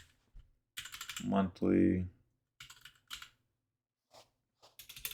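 Scattered bursts of computer keyboard typing, short clattering clicks in separate clusters, close and moderately loud, broken by a brief spoken word.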